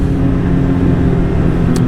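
Steady, loud low rumble of a Ski-Doo MXZ 850 Turbo snowmobile riding along a trail, an even drone with no gaps and a brief high click near the end.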